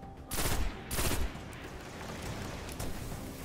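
Gunfire in the video game Destiny during a campaign mission, with two loud blasts in quick succession over a constant roar of battle noise.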